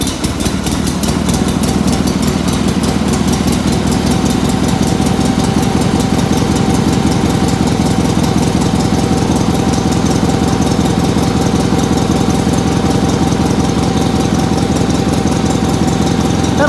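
A 1979 19.9 garden tractor engine idles steadily after a cold start, a loud, continuous close-up putter with a fast even rhythm and no talking.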